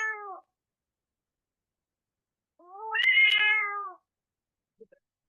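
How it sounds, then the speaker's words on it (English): A cat meowing plaintively, generated by a text-to-audio model: a short meow, a pause, then a longer, louder, drawn-out wail, close and clean against silence with a faint tick at the end. "let's put in a cat meowing plaintively into a text to audio model"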